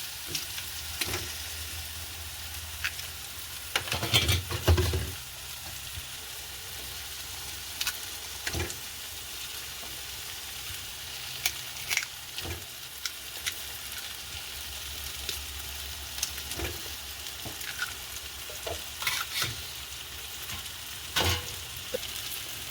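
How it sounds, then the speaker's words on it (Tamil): Beaten eggs poured into a pan beside brinjal and tomato fry with a steady, close sizzle, broken by several sharp clattering stirs and scrapes, with no talking. "நடுவில் நாங்கள் எடுத்து வச்சுக்கிற முட்டையை அப்படியே ஊற்றி வறுக்க போகிறோம்"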